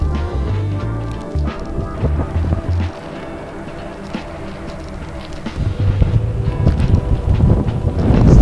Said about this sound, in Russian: Вся романтика закончилась вот этим встречным ветром